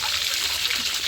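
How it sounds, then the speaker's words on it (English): A household water tap switched on by an Arduino UNO with an IR sensor and servo motor runs steadily, giving a close, even hiss of flowing water with no pauses or talk. "it turn on the water tap."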